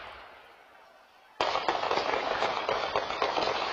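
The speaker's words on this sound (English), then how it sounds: "And these are the gunshots." Gunshots picked up by a Ring doorbell camera on a back porch: after a quiet hiss, a sudden burst of sharp cracking reports erupts and continues in rapid, uneven succession, harsh and distant-sounding.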